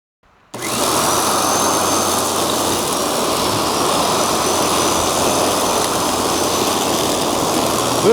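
A motorized lawn dethatcher starts up and runs with a loud, steady, rough whirring drone that holds constant throughout.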